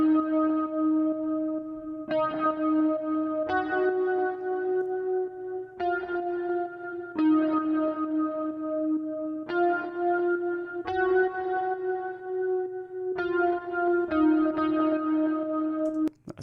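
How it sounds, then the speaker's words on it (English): Soft guitar pad with chorus, echo and effects-unit shimmer plays a steady sequence of sustained chords, changing roughly every one to two seconds, smooth and light throughout with no voices. "There's a guitar pad here."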